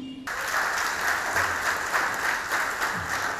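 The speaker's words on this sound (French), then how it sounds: "j'aimerais encore une fois demander d'applaudir" Steady audience applause at a televised Beninese event, a continuous even wash of clapping at moderate distance that starts abruptly and carries on without pause.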